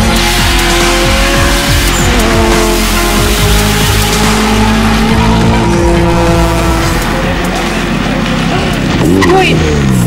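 Race cars roar past on a track, engines revving loud and tires squealing in repeated sweeps, with crowd noise and talk underneath.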